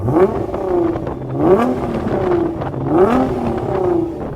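A Nissan GT-R fitted with a tuned Litchfield turbo-back exhaust revs hard three times, each rev rising sharply and falling back to idle. The exhaust is loud and close, with crackles between the blips.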